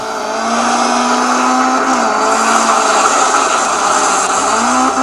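A rally car in the Rally Fury video game roars continuously at loud, steady volume, its engine holding a sustained high drone with a slight pitch shift partway through, plus hints of tire squeal and skidding.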